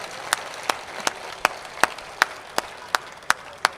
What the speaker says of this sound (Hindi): एक बार खुल के सब लोग तालियां बजाइए।